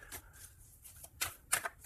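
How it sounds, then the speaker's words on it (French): Tarot cards shuffled and cut by hand, a few quick papery riffles and slaps close by, with quiet pauses between the bursts. "Je vais faire une petite coupe."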